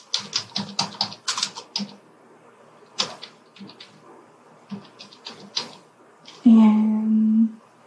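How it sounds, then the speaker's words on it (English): Rapid bursts of clicky keystrokes on a computer keyboard, typing a library card number and PIN into a library sign-in page, in quick runs separated by pauses, close and clear, ending with a short electronic tone. "you start typing in MID"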